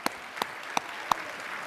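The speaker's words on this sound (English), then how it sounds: "Can we give him another round of applause?" Keynote audience at a conference hall giving sparse applause, four distinct loud claps spaced evenly apart over faint room noise.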